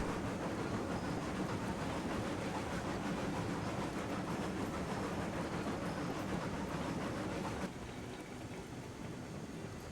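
A heavy 600,000-pound train rolls through a tight curve in the railroad game Railroads Online, giving a continuous low rumble with faint clatter that drops slightly in level near the end.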